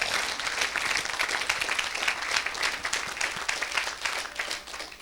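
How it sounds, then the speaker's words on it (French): A church congregation at a Sunday service breaks into sustained, dense applause, many hands clapping together throughout without a pause. "Acclamez pour cela."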